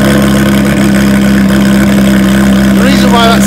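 A Porsche GT3 Touring fitted with a Shark Works exhaust runs at a steady, throaty idle, a continuous low rumble close by under people talking.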